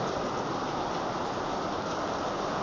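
Heavy typhoon rain pours down as a dense, unbroken hiss, loud and close, with no talking and no pauses.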